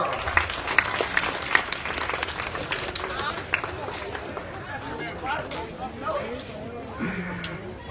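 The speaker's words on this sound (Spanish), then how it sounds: "¡Y aplausos a la evaporación sin calor!" Audience applause and cheering at a children's science show with clowns, dense clapping mixed with crowd babble and shouts, loud and sustained throughout.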